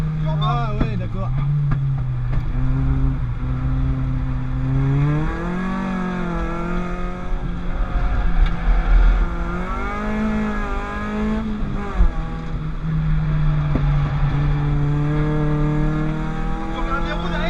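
A GTI car fitted with a Peugeot 206 RC engine laps the Lurcy-Lévis race circuit, heard from inside as the engine revs rise and fall through gear changes, with people talking over it.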